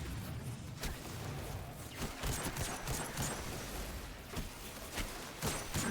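Gunfire in the video game Destiny 2: a dense, continuous wash of game weapon fire and crackling shots with several sharper bursts rising out of the mix, loud and steady throughout.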